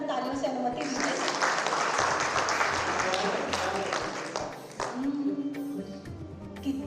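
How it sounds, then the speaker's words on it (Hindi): Audience applause in a hall during a Hindi poetry recital, a broad wash of clapping from the crowd, with a voice speaking over it near the end. "एक बार मुझे पूरा सदन तालियों से अनुमति दीजिए।"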